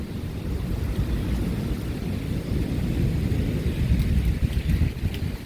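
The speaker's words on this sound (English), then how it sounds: "Rain starting to pick up a bit." Heavy rain from a severe thunderstorm on Dauphin Island, Alabama pours down in a dense, continuous hiss, with a low rumble underneath and no voices.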